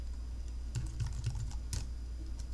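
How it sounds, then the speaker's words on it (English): Typing on a computer keyboard, a quick run of light clicking keystrokes in irregular bursts, close and fairly soft over a low steady hum, with no voice. "you can just start typing anything here"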